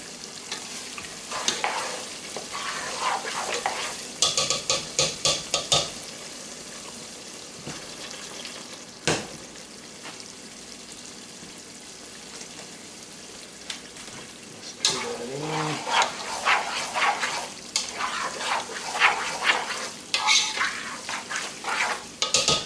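Alligator etouffee simmers low in a pot with a soft bubbling sizzle, broken by irregular scraping stirs and clinks of a spoon against the pot, fairly quiet and close.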